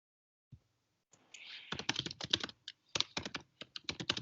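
Typing on a computer keyboard: after a brief tap, a steady run of close, crisp key clicks with short pauses between bursts.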